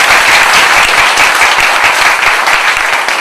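Dense, steady applause from a large audience at a spiritual gathering in Pune, continuous clapping filling the whole stretch at close, loud level with no talk over it.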